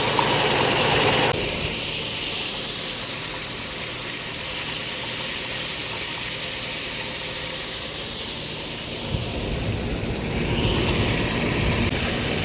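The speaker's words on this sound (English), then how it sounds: "trying out the new mixer tractor" The engine of a new 175 hp mixer tractor runs steadily at a farm dairy barn with a continuous hiss and rumble, and bursts of broadband noise briefly rise above the drone at the start and near the end.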